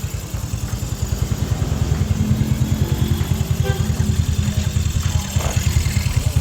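Motorcycle engine idling low and steady at reduced RPM after wiring work, a close, even rapid putter with no talking.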